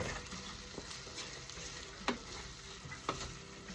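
Corned beef and potatoes frying in a pan, a steady close sizzle with a couple of sharp scraping stir clicks, no talk.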